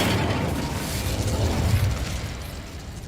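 Incendio fire spell cast in Hogwarts Legacy, a steady rumbling burst of flame with low booming texture lasting throughout, loud and close with no voices.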